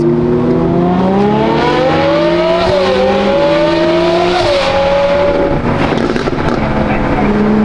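A Ferrari sports car engine pulls hard through rising revs, dropping at each gear change before climbing again, loud and close, with some talking mixed in.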